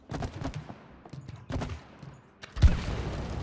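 Gunfire from the co-op video game It Takes Two, fired to blow something up: a few scattered shots, then a louder burst near the end, with no talk over it.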